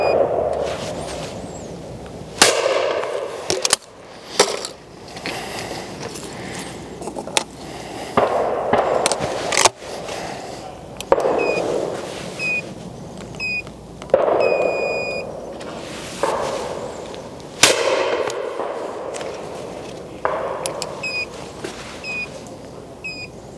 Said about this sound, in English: now we're going to shoot those with the 3 guns